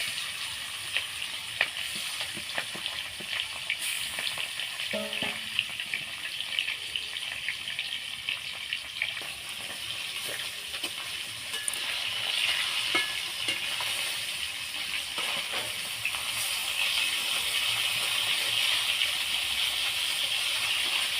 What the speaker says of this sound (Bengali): তেলটাও গরম হয়ে গেছে। এবার মাছগুলো দিয়ে দেবো।